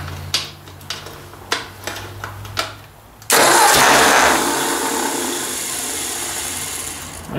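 A Ford 800 tractor engine cranks on the key: a few sharp clattering bursts build up, then a loud, steady broadband roar holds close by for several seconds.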